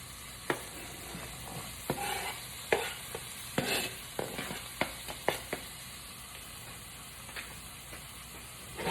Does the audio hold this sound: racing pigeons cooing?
no